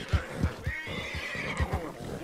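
A horse in Red Dead Redemption 2 whinnies loudly while being broken, with a long, wavering neigh over repeated thudding hoof stomps and bucking impacts.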